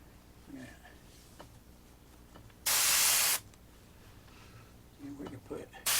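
A steady burst of spray hissing for under a second, loud and close, surrounded by quiet room noise and faint movement.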